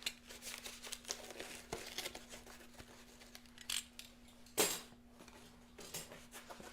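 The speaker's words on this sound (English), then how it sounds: "This is where the box knife comes in. Be a good box knife and don't damage the merchandise." Box knife slicing open a cardboard package, quiet scraping and crinkling cuts with a few sharper tearing bursts, close and faint over a low steady hum.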